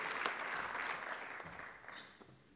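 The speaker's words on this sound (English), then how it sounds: "So please give them applause for all the dedication and the hard work that they've done here" Applause rises at a 30th anniversary party held at a civic center, a moderately distant crowd clapping steadily before it gradually dies down.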